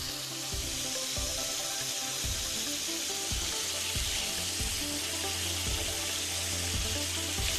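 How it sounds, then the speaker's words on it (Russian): Diced sausages or other smoked meat sizzling and frying steadily in a pan, a continuous loud crackle with periodic scrape-like thumps from stirring. "И жарим все это до появления ароматной корочки."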